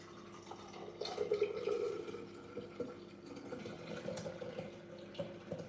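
Homemade almond milk pours into a jug, a soft, faint, continuous trickling and splashing of liquid that rises briefly then settles into a steady stream.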